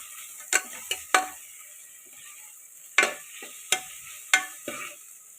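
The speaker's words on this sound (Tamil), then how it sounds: "வெங்காயம் பொன்னிறமாக வணங்குற வரைக்கும் கொஞ்சம் வெயிட் பண்ணுவோம்." Onions frying in a pan for hotel-style salna, a soft steady sizzle broken by about half a dozen sharp stirring scrapes and clinks of a spoon against the pan, close and without talking.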